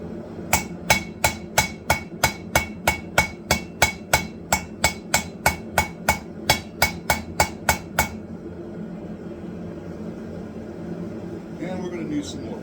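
A hammer forges San Mai paring knife steel with about twenty evenly spaced, ringing blows over eight seconds, close and loud. Quieter shop noise follows once the strikes stop.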